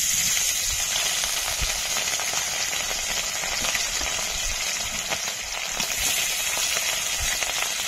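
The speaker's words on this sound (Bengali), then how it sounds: "তেল গরম হয়ে গেছে, মাছগুলো দিয়ে দেব।" Rohu fish pieces fry in hot oil in a wok over a lit stove, giving a steady, dense sizzle and crackle with scattered pops. The sound is close and continuous with no speech.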